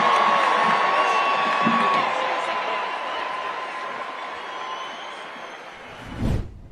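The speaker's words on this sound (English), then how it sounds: "When he falls, the crowd gets noticeably louder, and yes, they're still cheering." A large political event crowd cheering and whooping in a sustained roar that slowly fades, then ends with a brief low thump near the finish.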